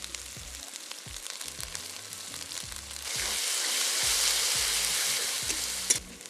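Garlic paste hits a hot pan while cooking Kadaknath chicken, the steady sizzle swelling into a louder, brighter hiss partway through, close and continuous, with no talking.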